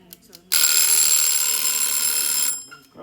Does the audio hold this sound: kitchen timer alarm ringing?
yes